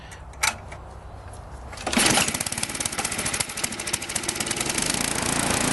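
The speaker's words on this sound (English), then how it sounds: "So we're going to start the engine again." A Tecumseh 5.5 hp snowblower engine is pulled over and catches with a loud roar, then settles into a rapid, steady chugging run that stays loud and close to the end.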